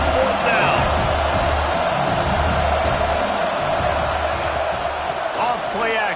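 A stadium crowd at a football game roars steadily through a tense fourth-down play, a loud, continuous wash of noise with scattered whoops and shouts rising above it.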